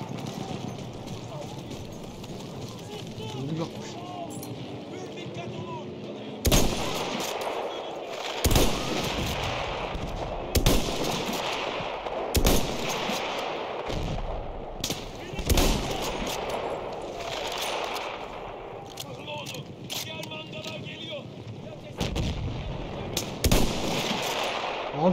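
Battlefield 1 combat set at Gallipoli: rifle shots and heavy artillery blasts go off again and again over a constant rumbling battle din, with sharp bursts every few seconds.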